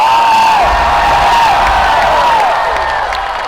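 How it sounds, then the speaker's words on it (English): Packed Hall H audience at San Diego Comic-Con roars with cheering, whoops and whistles over clapping, loud and close at first, then easing slightly toward the end. "Everybody, big round of applause."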